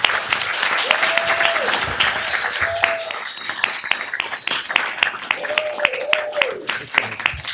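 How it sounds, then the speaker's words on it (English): A round of applause at a city council meeting honoring a military veteran and his family, with steady clapping throughout and a voice speaking over it. "can you please give them a round of applause?"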